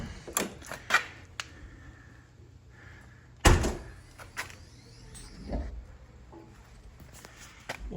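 Door of a 1986 Corvette Z51 being opened, a few sharp clicks and a loud latch thunk midway, with quieter handling knocks around it in a calm setting.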